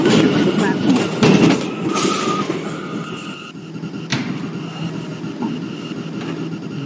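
A Manhattan-bound F Express subway train at the 21st Street–Queensbridge station rumbles along the rails with a screech of wheels and brief door and brake noises, fairly close, with a voice faintly present.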